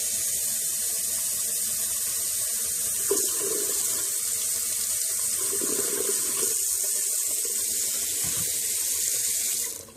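A faucet runs steadily, tap water pouring into a pitcher with a constant rushing hiss before cutting off at the end.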